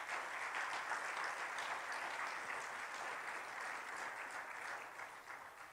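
A church congregation applauds steadily in a sustained wash of many hands clapping, even and fairly distant, tapering slightly toward the end.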